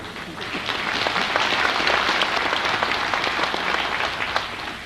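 Continuous applause from an audience of Korean expatriates at a lecture, even and full throughout with a faint murmur of voices underneath.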